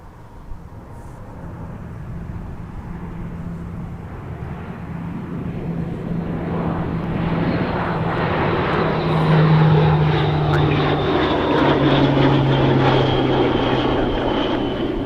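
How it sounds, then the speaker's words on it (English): A C-130 propeller aircraft departing Minneapolis–St. Paul Airport, its droning turboprop roar swelling from moderate to loud with a steady engine hum and a rising whine as it climbs away, heard alone without talk. "C-130 departure. There it is."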